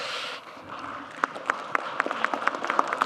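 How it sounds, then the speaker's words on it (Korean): A town hall meeting audience in Ulsan claps lightly after a quiet pause, a scattering of hands that quickly settles into a rhythmic, fairly steady beat of distinct claps at modest volume. "왜 고향 사람이라고 박수 주는 거예요?"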